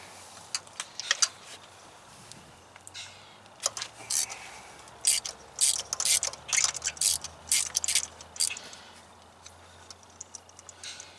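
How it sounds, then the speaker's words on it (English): Ratchet with a spark plug socket loosening spark plugs on a 2013 Ford Explorer 3.5 V6, heard as soft, fast clicking runs repeating in short bursts, close and fairly quiet. "And just simply remove the spark plugs."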